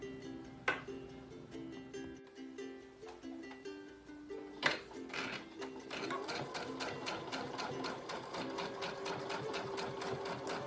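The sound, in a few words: sewing machine stitching cloth face mask liner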